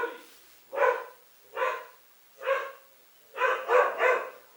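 A dog barks in five distinct bursts, three spaced single barks followed by a quicker cluster of two or three, fairly close and clear against a quiet room.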